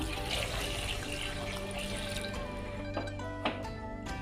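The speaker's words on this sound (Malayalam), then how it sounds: "അളവിൽ തന്നെ വെള്ളം ഒഴിച്ചു കൊടുക്കാം" Water pours steadily into a metal pressure cooker holding cassava, with a hollow, ringing splash, followed by a couple of brief knocks near the end.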